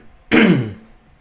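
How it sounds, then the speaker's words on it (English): A single short, forceful cough from a man, close to the microphone, that drops off quickly into quiet. "I need to cough now"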